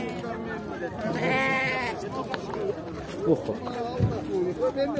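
Young lambs bleat loudly and nearby at the Sokuluk livestock market, one long wavering cry followed by shorter calls, while people talk over and between them.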